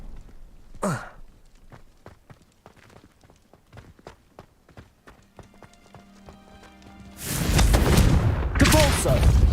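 A Confringo fire-blast spell erupts in Hogwarts Legacy as a loud, sustained roaring explosion in the last couple of seconds, following a stretch of quieter rhythmic tapping and clicking effects.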